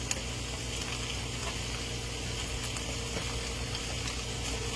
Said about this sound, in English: You can just sit here and listen to that sizzle